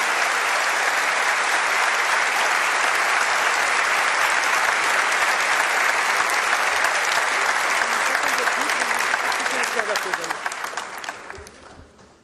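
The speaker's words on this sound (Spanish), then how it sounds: "Un fuerte aplauso para él." A theatre audience at the inauguration of the Teatro Nacional Benjamín Carrión gives loud, sustained applause for the President of the Republic, a dense roar of clapping with crowd noise that gradually fades toward the end.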